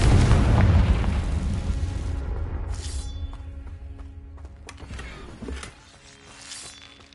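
A Confringo spell explosion in Hogwarts Legacy hits with a loud, deep boom that rolls and decays over several seconds, followed by sharp crackling bursts and debris clatter as the blast fades.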